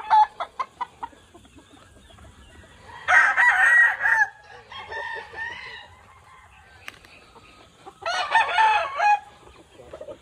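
A Gilmore gamefowl rooster kept as breeding stock on a farm crows loudly twice, several seconds apart, with scattered clucks and other faint bird calls between, nearby and without talk.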